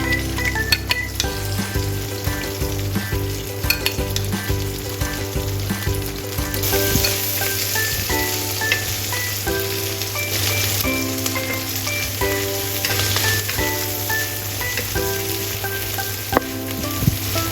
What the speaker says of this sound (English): Start by stir-frying the canned dace with black beans to release their aroma.